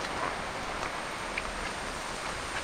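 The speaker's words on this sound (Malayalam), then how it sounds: "ഏതാണ്ടൊക്കെ മഴ പെയ്ത് തുടങ്ങിയിട്ടുണ്ട്" Rain starts to fall outdoors near a fishing spot, a soft, even hiss of drops that stays faint and continuous throughout.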